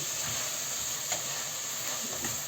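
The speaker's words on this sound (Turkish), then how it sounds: "Soğanımızı ekleyelim. Biraz sıvı yağ, biraz da zeytinyağı ekledim canlarım." Chopped onion fries in a mix of sunflower and olive oil, giving a steady close sizzle with a constant hiss and soft bubbling that never lets up.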